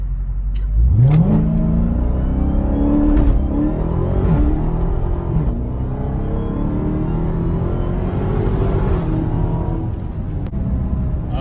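A Dodge Charger SRT Hellcat launches from 0 to 60 in track mode, its engine roaring loudly and rising in pitch through several quick gear shifts before settling into a sustained high-speed drone.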